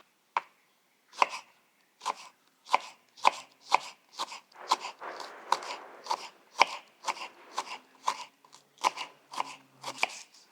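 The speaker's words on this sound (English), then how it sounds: "going to fine chop everything and mix it together" A knife finely chops salsa vegetables on a board in crisp, evenly spaced strokes, about two per second, each a sharp close tap in an otherwise quiet room.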